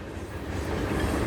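A train passing close by with a steady, broad rumbling roar of wheels and cars, loud and continuous and building slightly, with no voices.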